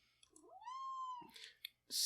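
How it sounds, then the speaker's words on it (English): A cat lets out a single drawn-out meow that rises, holds steady, then trails off, followed by brief rustling and a short burst of noise at the end, close to the microphone and not under any talk. "Stop it, cat."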